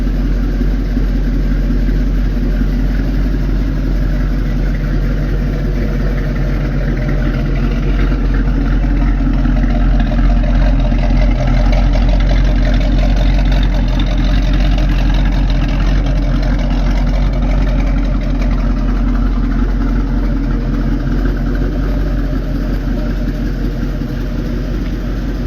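A loud, steady engine of a modified 1972 Ford Mustang Fastback rumbles at idle with a deep, continuous throb and no voices, holding an even level throughout.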